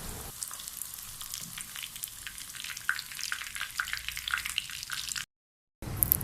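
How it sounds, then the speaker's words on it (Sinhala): Mushrooms frying in a pan make a continuous close crackling sizzle with scattered pops, broken by one brief silence near the end before the sizzle returns. "දැන් මේ මගේ බිම්මල් ටික අවශ්‍ය ප්‍රමාණයට බැදිලා."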